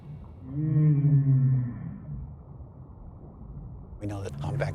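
Humpback whale song recorded underwater during the breeding season: a long, loud, low moaning tone with rising and falling pitch, then a quieter pause and a burst of higher squeals and clicks.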